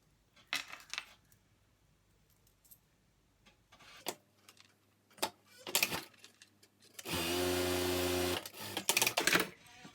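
A sewing machine hems the cuff of a fleece hoodie, with scattered clicks and handling taps before one loud steady burst of stitching lasting about two seconds, then more clatter.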